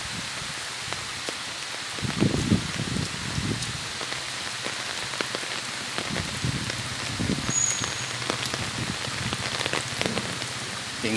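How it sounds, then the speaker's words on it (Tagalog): Steady rain falls on a surface, a constant close hiss with patter, while a few low indistinct sounds and movements stir beneath it. "Patilan muna ulan."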